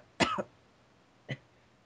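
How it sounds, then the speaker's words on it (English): Two short coughs close to the mic, a fuller one followed by a smaller one a second later, with near silence around them. "Stop coughing."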